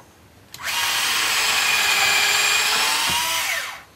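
A cordless Makita driver drill in drill mode, drilling wood, whirs up sharply and runs at a steady high-pitched whine for about three seconds before winding down, close and loud with no talking.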